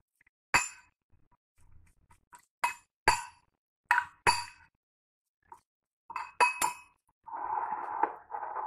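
Onion, cucumber and carrot tossed together in a bowl for chicken shawarma, giving sharp clinks and knocks at irregular intervals, then a short stretch of softer rustling mixing, close and fairly quiet.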